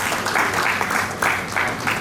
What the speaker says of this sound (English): Big applause for him.